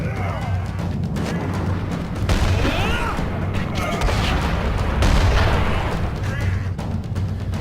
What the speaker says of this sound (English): He's got explosions, huh?